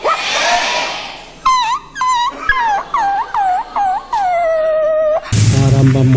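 Dogs bark and whimper in a loud, close sequence, with short yelps and whiny rising cries repeating rhythmically, then a long whimpering howl before a harsh burst of barking at the end.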